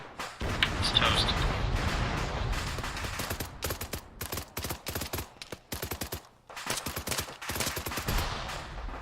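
Rapid bursts of video game gunfire crack in quick succession, heavy and close, with volleys separated by brief pauses and a dense battle din early on.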